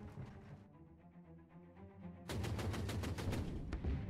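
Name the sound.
machine gun fire from bunkers in video game Order of Battle: Blitzkrieg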